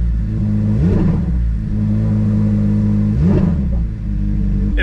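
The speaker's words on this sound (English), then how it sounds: "I'm gonna give it a little rev," A 2023 Chevrolet Corvette C8 Z06 engine idles with a deep rumble, then revs sharply twice, each rev a quick loud surge before settling back.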